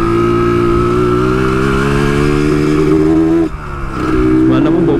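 A Yamaha RXZ two-stroke motorcycle engine runs loud and close, its steady high-revving drone dipping sharply as the throttle drops off, then climbing back up.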